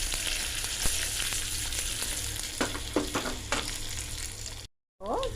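Garlic, asafoetida, dried red chilies and curry leaves sputter in hot oil for a sambar tempering: a dense, close sizzle with sharp crackles and pops. It cuts out briefly near the end.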